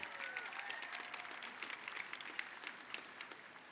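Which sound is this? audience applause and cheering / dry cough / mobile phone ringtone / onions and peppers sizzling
audience applause and cheering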